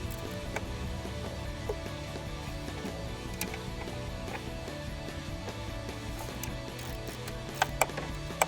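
A socket ratchet working bolts loose on a 2011-2017 Mustang GT, quick faint clicking and light mechanical rattling throughout, with a few sharper taps near the end, no talking.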